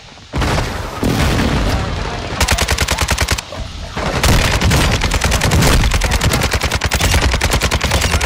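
Rapid automatic gunfire from Call of Duty: Modern Warfare II rattles loud and close in dense, sustained bursts with booming low-end hits, with only brief gaps between volleys.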